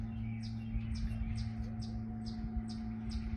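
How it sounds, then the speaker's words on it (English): A small bird chirps in a steady series of high, quick tweets, about two per second, fairly faint over a constant low electrical hum. "hear a bird chirping"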